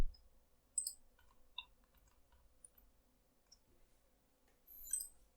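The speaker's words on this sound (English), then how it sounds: "Press the roller to confirm." Quiet, sharp mouse clicks while working in Siemens NX CAD software, a few isolated clicks scattered across near-silence, close and faint, no talking.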